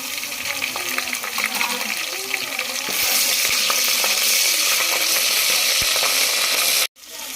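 Onions fry with ginger garlic paste for a hotel-style vegetable pulao. A loud, continuous sizzle grows brighter partway through, with occasional stirring clicks, and it cuts off abruptly near the end.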